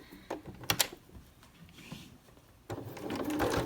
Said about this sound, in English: You're just going to stitch this down so it stays in this pleated mode.